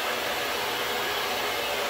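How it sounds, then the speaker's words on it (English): A handheld blow dryer blows steadily while hair is being styled and smoothed, a loud continuous broadband rush of air with no break and no voices. "So you can see I'm still angling my blow dryer down"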